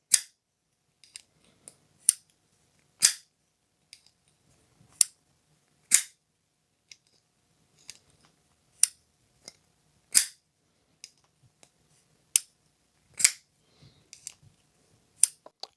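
Crisp snapping clicks from a folding knife's lock bar as the blade is flicked open and shut, about a dozen sharp metallic snaps spaced irregularly, close and clear with no talk.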